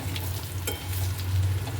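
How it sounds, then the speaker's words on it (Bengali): Potatoes fry in fish oil with a soft, steady sizzle and faint crackling, quiet and close, no voices. "আলুটা ভেজে তুলে নিয়েছিলাম এটাও দিয়ে দেবো ওতে একটু ভাজা হয়ে যাক এটা"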